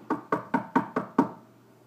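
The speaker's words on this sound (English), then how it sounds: "You hear that? I'm tapping." Six quick knocks on a bathroom door sound close and crisp in an even rhythm, each sharp tap fading fast, with the last slightly louder and followed by quiet.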